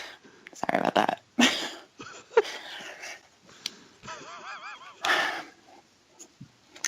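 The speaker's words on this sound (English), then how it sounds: "My dog just burped." A dog's burp, a short throaty gurgle among scattered shuffling noises, with a few higher squeaky vocal sounds nearby.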